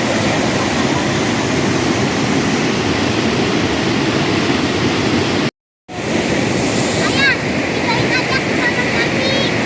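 A river flows beside a riverside campsite in Rancabali, Ciherang, as a loud, steady broadband rush of water that cuts out for a moment partway through, then resumes with a few faint higher chirps.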